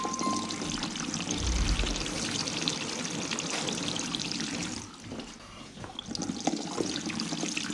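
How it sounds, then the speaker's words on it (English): Water runs steadily down into a washing machine drum after a leak repair, a close, continuous pouring and trickling that dips briefly and then picks up again, with no voices. "now you can see that's actually now starting to go down into the drum where it should do"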